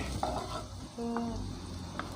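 Soft, steady sizzling of food in a hot pan with faint stirring and scraping, no voices.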